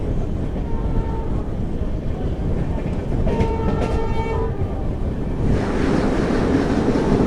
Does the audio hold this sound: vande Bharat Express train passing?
yes